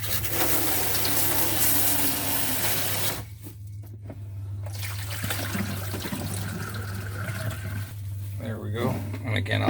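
A small pump on a Class B camper van bathroom sink runs with water flowing and splashing. The steady mechanical hum and rushing water pause briefly twice, and a voice talks over parts of it.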